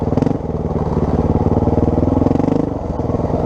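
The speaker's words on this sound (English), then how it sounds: "You can listen to the bike here. That was singing a tune." A Honda XR400 dirt bike's single-cylinder engine revs steadily through deep sand on a trail at Evart, a loud, close, continuous throb with rising and falling pulses and occasional clattering bumps.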